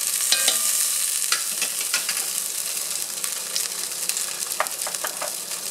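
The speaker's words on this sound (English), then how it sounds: "right inside that pot where we brown the meat, we're going to add our onion" Chopped onion sizzling in a Dutch oven where beef for a stew was just browned, a steady close frying hiss with scattered crackles and light stirring scrapes throughout.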